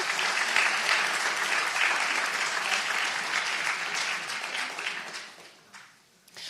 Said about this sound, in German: wer 30 und mehr war, der hat schon mal einen dicken Applaus verdient